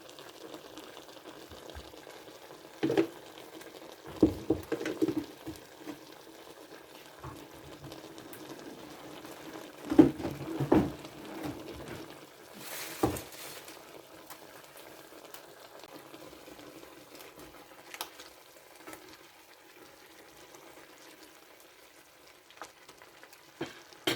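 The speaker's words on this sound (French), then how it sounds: "Et ça mijote et ça mijote." A pot of pig trotter civet simmering on the stove, giving a soft steady bubbling and sizzling bed with a few louder pops and clinks scattered through, heard alone without talk.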